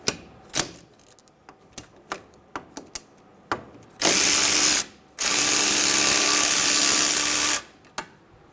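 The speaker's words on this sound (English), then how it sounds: "Using a 14mm socket, remove the caliper bolts." Two loud sustained power-tool bursts, likely an impact gun on a 14mm socket, remove the front brake caliper bolts on a 2011-2014 Hyundai Sonata, set between scattered clicks and clanks of tools and parts.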